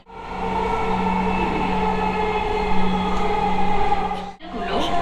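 Steady rumble and hum of a Dhaka Metro Rail train in motion, a constant interior drone with a brief dip near the end.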